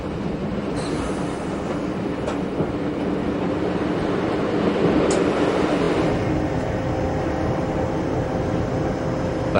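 A Bodensee-Toggenburg Railway train runs from Nesslau toward Wattwil, a steady close rumble of wheels on rails with faint clickety-clack and a thin wheel squeal rising toward the end, no talking.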